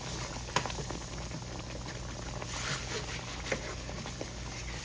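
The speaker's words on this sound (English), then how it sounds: "it starts bubbling and thickening from the flour, the all-purpose flour" Sausage and bacon gravy thickened with all-purpose flour bubbles steadily in the pan, a soft continuous simmer with a few faint pops and spatters, alone without any voices.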